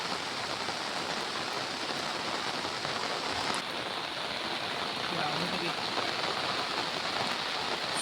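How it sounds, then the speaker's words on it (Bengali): Heavy rain pouring down on a wet morning before cast net fishing in flooded fields, a loud, dense, unbroken hiss of rainfall on surfaces close by. "প্রথমে আপনারা ওয়েদারটা দেখুন, খুব করে বৃষ্টি হচ্ছে।"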